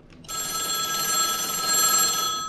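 A telephone rings in the horror game The Anomalous Hour, set aboard a train: a loud, steady electronic bell ring that starts abruptly after a brief quiet moment and continues unbroken.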